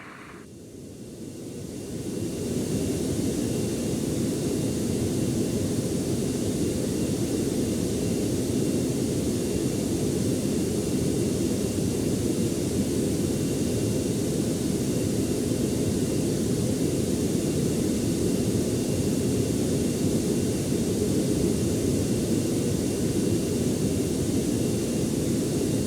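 Jet aircraft engine roar in the AirportSim airport simulation game during taxiing and marshalling, swelling in over the first two seconds and then holding as a loud, broad, steady whine-and-rush to the end.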